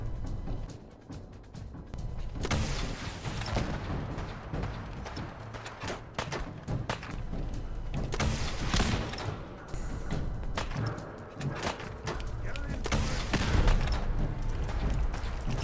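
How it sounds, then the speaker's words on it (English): Freezing missile launcher fired repeatedly in Fallout 4 during a sneak attack, a steady barrage of loud booming blasts and thuds layered over continuous rumbling explosions and gunfire-like bursts. "Alright, freezing missile launcher."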